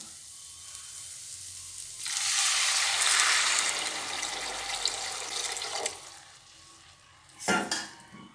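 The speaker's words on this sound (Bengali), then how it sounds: "জল দিয়ে দেবো" Water poured into a pan of cabbage curry with fish head produces a loud rushing sizzle for several seconds that tapers off. A shorter splash and sizzle follows near the end, with no voices.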